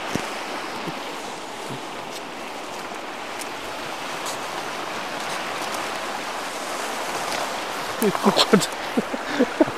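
Clean stream water flowing outdoors, a steady broad rushing wash nearby, with people talking over it and some knocks and clatters near the end.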